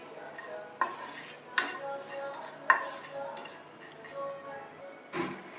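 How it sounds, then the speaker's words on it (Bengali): Whole garam masala and green cardamom dry roasting in a pan, with a few sharp spatula scrapes and clinks against the metal over a faint background hiss, spaced irregularly and fairly close. "তো এইটাকে আমাকে আগে ড্রাই রোস্ট করে নিতে হবে।"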